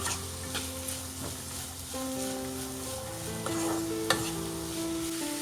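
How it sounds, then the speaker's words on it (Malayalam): Sliced onions, salted, sizzle and fry steadily in a pan with repeated stirring scrapes, close and continuous, a base for Kerala-style mutton roast. "ഈ സവാള നന്നായിട്ടൊന്ന് വഴറ്റിയെടുക്കണം."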